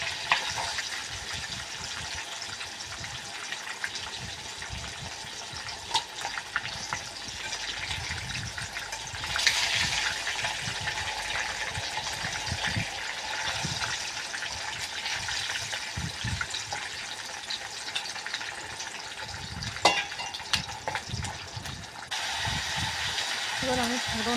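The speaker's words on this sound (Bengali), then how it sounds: "আমি প্রথমে মাছগুলো ভেজে নেব।" Fish fries in a pan of oil for a banana and potato curry, a soft continuous sizzle with bubbling and gushing sounds that rise and fall, fairly faint, alongside occasional kitchen noise and likely some background voices.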